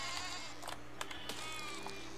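Sheep bleating in the video game Besiege, a few short wavering bleats over a steady low mechanical hum with faint clicks.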